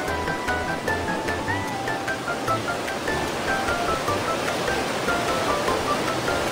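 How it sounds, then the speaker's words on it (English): A waterfall in the VR game Rec Room rushes in a loud, steady broadband roar throughout, with faint tonal game sounds faintly audible under it. "I guess we go through the waterfall."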